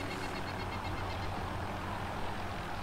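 A video game helicopter drones in the background as a steady, fairly faint low hum with a whirring texture, heard alone without voices.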